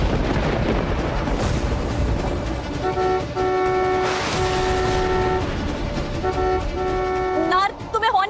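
Repeated car horn honks in short and longer blasts sound at mid-distance under a dramatic score with rumbling effects, with voices audible around them.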